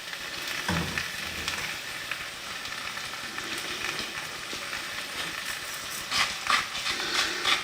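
Chicken seasoned with spruce tips, salt and pepper sizzles and crackles in a hot pan, close and steady, with a few sharper spatters and scraping movements near the end.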